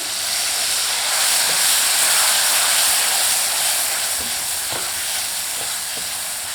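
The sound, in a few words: frying spices and tomatoes for palak saag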